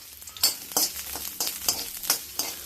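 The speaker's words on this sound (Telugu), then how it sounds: "ఆనియన్స్ వేసేసుకొని కొంచెం దాన్ని స్పూన్తో కలిపేసి" Onions stirred with a spoon as they fry in a kadai for chukkakura pachadi, giving a run of about six quick scraping, sizzling strokes at a steady rhythm, close and clear with no talking.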